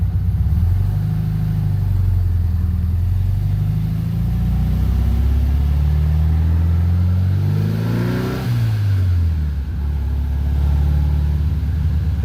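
A 1600cc VW Beetle engine pulls in second gear on a dynojet, with a loud, steady engine note rising in pitch over several seconds, peaking, then dropping back to a low rumble.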